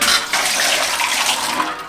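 Water pours steadily into a Presto pressure cooker, a close, loud splashing rush lasting about two seconds with no voices.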